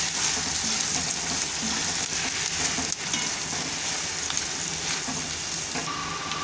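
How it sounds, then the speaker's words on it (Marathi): Spices fry in a pan with potatoes and onion, a dense steady sizzle and crackle with a few faint stirring knocks, close and constant. "हे मसाले चांगले परतून घ्यायचे त्याच्यामध्ये एक दोन मिनटं"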